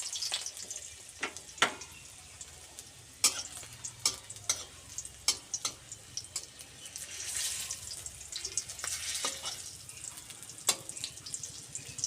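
Whole cumin seeds and peeled garlic frying in a pan, with a steady sizzle and repeated scraping stirs, sharp clicks of a utensil against the pan, and a faint running-water hiss.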